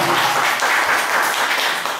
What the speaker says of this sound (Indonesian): Yang di sini kasih tepuk tangan dulu buat Tuhan kita Yesus Kristus